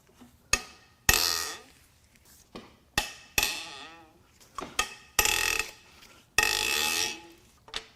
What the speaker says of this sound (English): Now we can crack the head bolts loose.